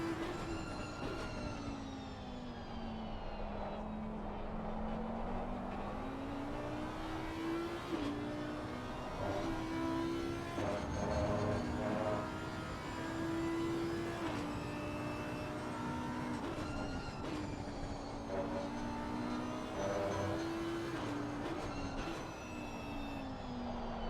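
Race cars at the Hungaroring during a six-hour endurance event, including a 494 Ferrari and an Audi Evo 2, with a steady, loud engine drone rising and falling as gears shift through the whole stretch.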